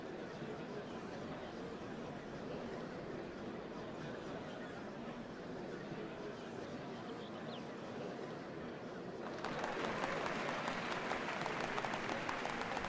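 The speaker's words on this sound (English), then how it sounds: "What a crowd!" Crowd applauding in Final Fantasy XIV at a ceremony for the changing of Dawn servants, a steady wash of many clapping hands that swells louder near the end, with voices faintly beneath.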